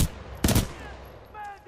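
Burst-fire rifle in Titanfall 2 firing a short, loud, close volley of rapid shots, followed by a brief electronic whine and tonal game effects.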